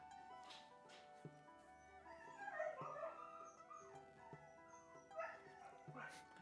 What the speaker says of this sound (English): Not sure if you can hear that, but I think the dogs know that someone's back.